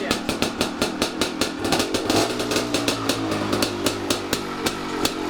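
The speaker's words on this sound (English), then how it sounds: "This might be the nicest sounding 2-stroke I've ever owned." An old two-stroke motorcycle engine runs right after one kick start, its sharp rhythmic firing pulses steady and close with a tight, crisp exhaust note.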